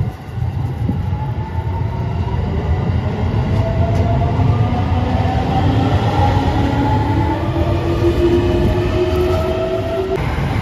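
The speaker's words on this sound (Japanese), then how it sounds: "21時30分発6000系普通電車快速サンポート高松伊予西条行き" JR Shikoku 6000 series electric local train departing Tokushima Station at night, loud continuous rumble with rising motor whine as it pulls away, close and steady.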